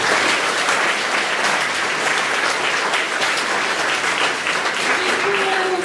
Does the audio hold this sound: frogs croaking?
no